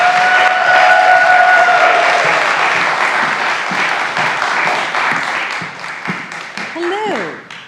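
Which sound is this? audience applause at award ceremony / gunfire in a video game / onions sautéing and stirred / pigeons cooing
audience applause at award ceremony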